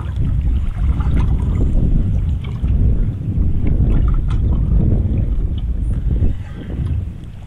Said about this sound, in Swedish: Det känns som att vinden vänder mer och mer.